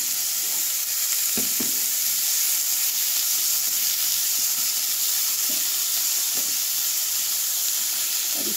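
Small pieces of vegetable sizzling in a frying pan with curry leaves, a loud continuous frying hiss close up with a few brief clinks and stirring sounds.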